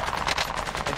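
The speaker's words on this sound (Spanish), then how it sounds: "están de las carpas disparando" Gunfire in the video game Call of Duty: Warzone, a brief burst of rapid automatic shots in steady succession, fairly loud and dense across the whole second.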